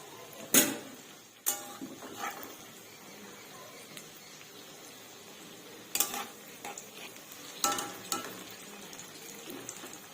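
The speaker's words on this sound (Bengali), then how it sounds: "পকোড়াগুলো একদম আমি লো ফ্লেমে ভাজছি, কারণ যাতে ভেতরে কাঁচা না থেকে যায়।" Cabbage pakoras frying in oil over a low flame, a soft continuous sizzle beneath a few sharp clinks of a utensil against the pan, heard close and at low volume.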